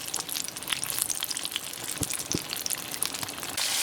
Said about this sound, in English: Here it is, over at my stove in the hot oil.